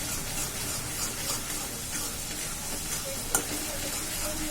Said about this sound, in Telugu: ఇప్పుడు ఇందులో కొంచెము అల్లం వెల్లుల్లి పేస్ట్ అన్నీ వేసి చక్కగా వేపేస్తున్నాం